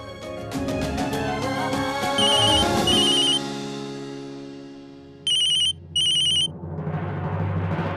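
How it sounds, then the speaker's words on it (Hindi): A telephone rings for an incoming call with a loud, melodic electronic ringtone. Tones play for a few seconds, then two short bursts of chime-like beeps follow after a pause. "मैं ये चाहती हूँ कि आप अभी वरुण भैया को फोन करें"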